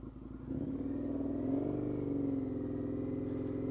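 An Indian FTR 1200 motorcycle engine runs close by with a deep, steady rumble, building in revs after a brief quieter start and holding a loud, throbbing drone to the end.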